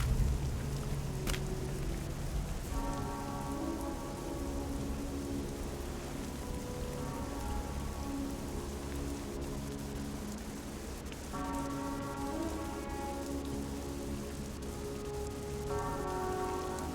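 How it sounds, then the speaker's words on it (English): Rain in the video game Gothic Remake, a steady close wash of falling drops, with sustained tonal music chords rising over it in the background. "Boys, it's raining out here."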